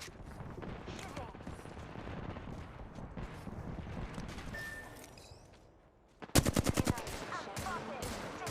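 A rapid burst of automatic gunfire in a video game, about eight sharp evenly spaced shots near the end, following a stretch of talk over busy battle ambience.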